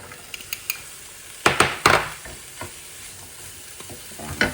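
Onions with fennel seeds frying in a pan, a steady low sizzle broken by a few sharp scraping stirs of a spoon against the pan, close and fairly loud, with no talking.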